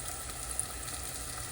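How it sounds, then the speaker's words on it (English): Breaded pickles frying in oil that has cooled slightly from an earlier batch, giving a soft, steady, even sizzle heard close up without voices. "this one's frying a little slower because you've already cooled your oil down"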